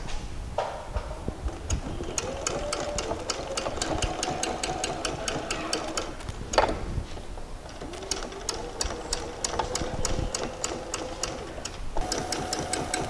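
A sewing machine stitches a rolled seam allowance close to the fold line on a pair of shorts, running with a fast rhythmic clatter and a humming motor. The motor pitch rises and falls, with a brief pause near the middle.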